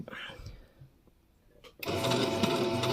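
A sewing machine top-stitching around a bandana bib starts abruptly after a brief whisper and some quiet handling, then runs as a steady, close, fast mechanical whir.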